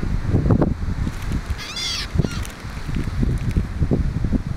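Geese or similar birds honk near a spot where popcorn is being tossed to them, with a few short calls rising over a busy outdoor background of rustling and movement.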